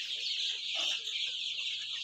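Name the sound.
Egyptian Fayoumi chickens clucking in a shed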